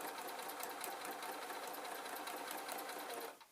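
A sewing machine stitches a suit pocket with a fast, even mechanical whirr and rapid rhythmic clatter, running continuously at close range before stopping abruptly at the end.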